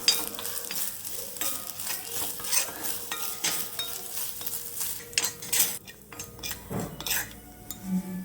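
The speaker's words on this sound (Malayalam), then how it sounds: "ഇത് കുറച്ച് തേങ്ങ ചുരണ്ടിയതാണ്. അതും കൂടി നമുക്ക് നന്നായിട്ടൊന്ന് വറുത്ത് കോരിയെടുക്കണം." Grated coconut fries in a pan for unniyappam, with a steady sizzle under repeated scraping and clinking of a metal spoon stirring against the pan, heard up close.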